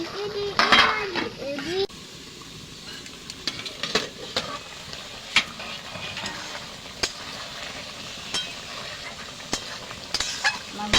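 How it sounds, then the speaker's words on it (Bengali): Fish curry of singi and koi fish with potatoes being stirred in a pot, with sizzling, scraping of a utensil against the metal pot and clinks as it is covered, while someone talks. "নাড়িয়ে দেবো, আর একটু ঢাকা দিয়ে দেবো"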